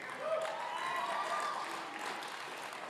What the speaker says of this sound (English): You can tell from the applause